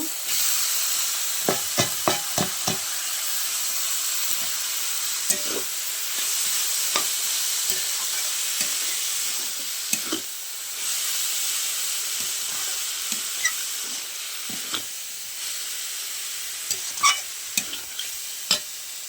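Shredded cabbage tipped into a spice paste in a pan on a gas stove, a continuous frying sizzle and hiss with scattered scraping stirs and clattering knocks, no voices.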